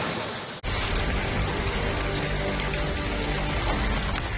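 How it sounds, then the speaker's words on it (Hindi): Heavy monsoon rain pours down steadily in Botad, Gujarat, a loud dense roar of water on surfaces filling the whole clip after a brief cut near the start. "भारी बारिश के चलते बोटाद की गलियां दरिया हो गई हैं"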